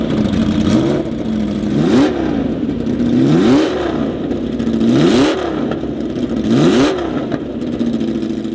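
A Porsche 908 Langheck longtail race car's 3-liter flat-eight engine, revved repeatedly in about five sharp blips that climb and fall, each a loud metallic rasp separated by a rough, clattering idle, heard up close.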